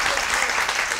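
A studio audience on a Turkish live TV program with Emre Altuğ and Sıla gives dense, continuous applause. Loud and even throughout the short moment, with no pause.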